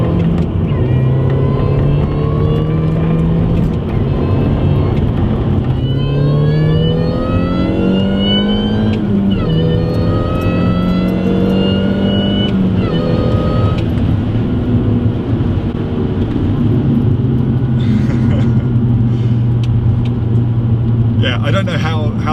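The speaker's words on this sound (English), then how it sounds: "The sound of the supercharger is much louder." A Mini's supercharged engine fitted with an Orranje cold air intake, heard from inside while driving on open roads, its loud whine and rumble rising and falling steadily with the revs throughout.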